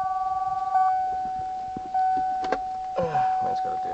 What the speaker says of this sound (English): Man's got a damn cell phone.